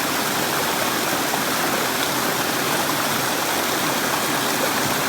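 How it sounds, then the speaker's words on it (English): Water from Zealand Falls pours steadily down a rocky stream toward a lake below, a dense, unbroken rushing roar heard up close with no voices over it. "all this water's flowing down in there"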